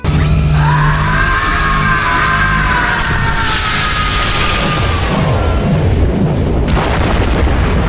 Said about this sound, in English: So during the final battle with Starscream, the Allspark decides to just randomly explode and end the fight.